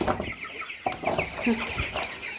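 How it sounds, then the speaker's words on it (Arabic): Farm chickens cluck and call in a coop at feeding time, with several close, overlapping clucks and squawks over a steady background. "بسم الله ندخل بقى على الفراخ عشان احنا كده طولنا قوي"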